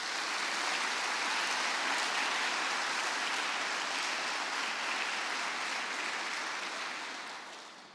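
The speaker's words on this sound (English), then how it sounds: "I would like everybody to give a round of applause to Mike Freilich" Round of applause from an audience at a NASA State of NASA event at Stennis Space Center, steady dense clapping that holds for several seconds then begins to fade near the end.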